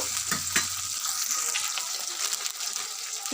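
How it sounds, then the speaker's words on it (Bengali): Spices frying in hot oil for a Bengali fish kaliya with drumsticks, a steady bright sizzle with a couple of sharp clanks early on and scraping stirs throughout, no talk. "একটু ভালো করে ভেজে নেব কাঁচা গন্ধটা চলে যাবে"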